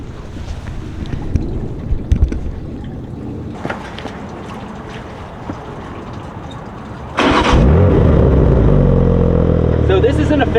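A modded 750 hp 2024 BMW M2 fires up from lukewarm, its sudden loud engine roar cutting in partway through and settling into a deep, steady idle after a stretch of quieter wind-buffeted background noise.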